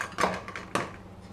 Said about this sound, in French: je vais gratter ma pulpe au-dessus de mon tamis